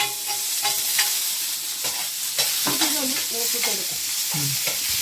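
Mustard seeds and onion fry in hot oil for a Kerala anchovy fish curry, with a steady crackling sizzle and repeated scraping stirs, close and fairly loud.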